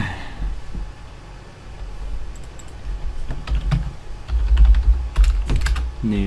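Computer keyboard typing during a password login, a run of quick, close key clicks over a steady low hum that grows busier and louder toward the end, with no voice over it.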